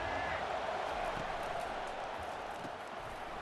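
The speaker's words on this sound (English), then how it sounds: "listen to the roar of this crowd" A dense, steady roar of a large stadium crowd at an Ole Miss vs LSU college football game fills the whole stretch, continuous and loud with no pauses, a broad wash of many voices blending together.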